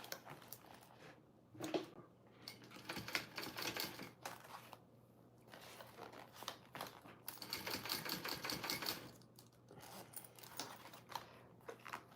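A sewing machine top stitches a mini backpack in quick bursts of rapid mechanical stitching, separated by brief pauses, close and steady against a low hum.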